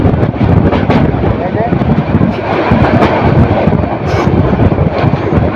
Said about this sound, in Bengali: ট্রেনটি কমলাপুর থেকে এসে ভালো একটি গতি চলেছে